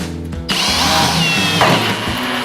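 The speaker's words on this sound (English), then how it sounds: "Just let the drill bit do the work, because I've had these grab and snap off before." A power drill with a tapered pilot bit starts abruptly and bores steadily at close range, its loud whine rising slightly as the bit bites, with no voices.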